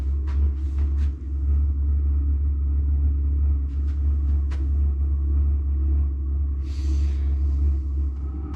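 A Vevor 8 kW 12-volt diesel air heater burns with a continuous low roaring rumble droning steadily throughout, with a few faint clicks and a brief hiss near the end.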